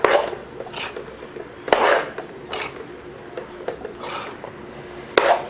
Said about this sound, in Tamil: உருளைக்கிழங்கை போட்டு கலந்துக்கலாம்.